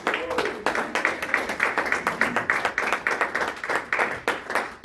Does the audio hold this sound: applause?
yes